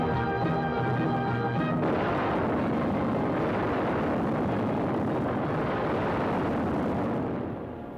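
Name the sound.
bombs exploding after release from a bomber, classic war film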